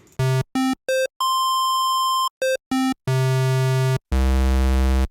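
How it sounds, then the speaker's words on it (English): Pulse-wave oscillator of the NI Super 8 synthesizer plugin, a vintage-style software synth, playing a run of short buzzy bright notes, one long held tone and then two sustained low rich tones, loud and alone. "let's go to pulse wave"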